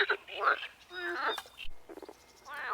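Toads croak at a lake in repeated rough, warbling calls that come in close clustered bursts, with a person talking over them.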